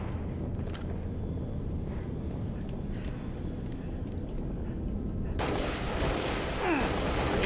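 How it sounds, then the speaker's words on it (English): Gunfire in Halo: Reach multiplayer SWAT free-for-all, a dense, steady wash of game noise with louder bursts of shots, notably a harsh sustained volley near the end. "Being shot from two people"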